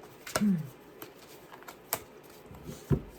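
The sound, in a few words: tarot cards being gathered and shuffled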